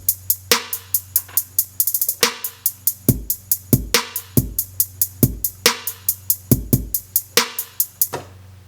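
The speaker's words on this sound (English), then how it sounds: "came up with a drum loop that sounded like this" A punchy drum loop made on a Maschine, with booming kicks, snappy snares and fast, busy hi-hats, including a quick rapid-fire roll, playing steadily before stopping.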